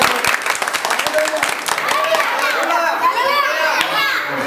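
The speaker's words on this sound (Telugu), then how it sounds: "అందరూ ఒకసారి చప్పట్లు కొట్టండి." Church congregation clapping at a worship service, irregular rapid claps close by with children's voices and crowd chatter mixed throughout.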